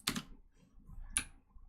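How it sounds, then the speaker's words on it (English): Two sharp key clicks from a mechanical keyboard, about a second apart, close and crisp against a quiet background. "Your keyboard sounds cool, but I like keyboards that sound like wood."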